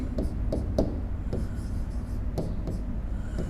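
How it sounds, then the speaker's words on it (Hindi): Sentences written on a board, a series of quick tapping and scratching marker or chalk strokes in an irregular rhythm, close by over a low room hum. "अब मैं 2-3 सेंटेंस आपके सामने लिखता हूं"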